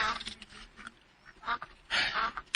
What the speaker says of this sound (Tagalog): Mga itik.